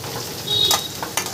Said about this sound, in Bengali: পেঁয়াজ আর লঙ্কাটা আমি একটু ভাজা ভাজা করে নেব।